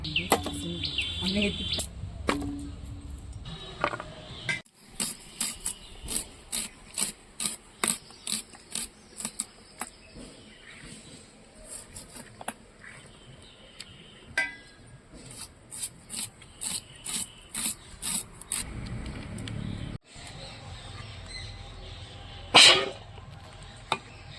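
Spices are ground by hand on a stone, giving a long series of sharp, rhythmic scraping strokes with brief pauses. A voice speaks faintly in between.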